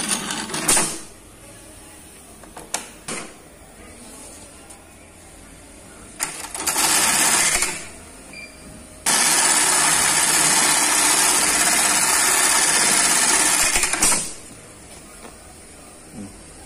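A velcro attaching machine runs in test mode with short mechanical bursts and clicks, then settles into a loud, steady motor whir for several seconds before stopping.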